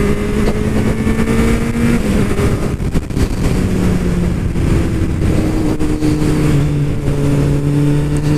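A Kawasaki Z750 motorcycle being ridden on an open road, its engine droning steadily and rising and falling in pitch as it revs through the gears, loud and close with wind rushing past and no talking.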